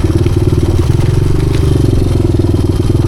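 A 1986 Honda XR200R trail motorcycle riding on a trail, its four-stroke engine thrumming loud and close in a steady, throbbing note with faint clatter from the bike underneath.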